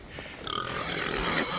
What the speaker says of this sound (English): Pigs are just a touch terrifying.